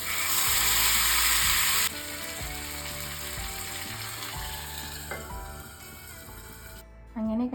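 Karimeen (pearl spot fish) fries in oil with a loud, broad sizzle for about two seconds, then fades to a faint frying hiss under steady tuneful background music.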